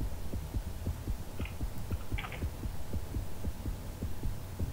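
Heartbeat monitor in The Bug Survivor horror game, a steady, fast, low thumping pulse repeating throughout under a droning hum, close and alone.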